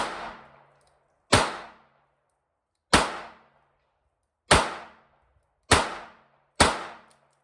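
Six sharp, loud gunshots from a Smith and Wesson model 34-1 .22 Kit Gun revolver at a shooting range, spaced irregularly about one to one and a half seconds apart, each cracking and decaying quickly, with no talk.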